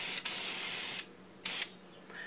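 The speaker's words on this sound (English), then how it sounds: "So I spray the back," Krylon aerosol can spraying spar urethane onto a small carved ribbon sign, two loud close hissing bursts of about a second and a quarter second, separated by a quiet gap.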